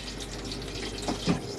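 Water from the main tank of a Chausson Flash 515 motorhome rushes into the toilet bowl, a soft steady flow that swells briefly near the end, quiet and close.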